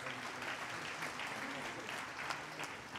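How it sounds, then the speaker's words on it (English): Quiet, sustained clapping from an audience at an Engineers Day awards ceremony, applauding the prize winners as a continuous soft patter with a faint voice underneath. "now a round of applause please to all who received the prizes"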